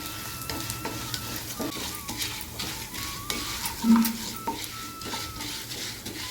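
Cumin and urad dal roast slowly in a pan on a low flame. A soft sizzle runs under frequent close scraping and light metallic clinks from a spoon stirring against the pan, with no speech.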